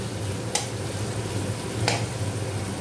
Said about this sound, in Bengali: পেঁয়াজটা কিছুক্ষণ ভাজা হবে।